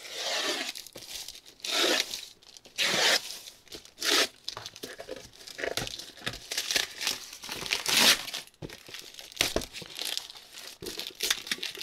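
Paper crinkles and rustles up close in repeated bursts, crisp crackling handling sounds with short pauses between.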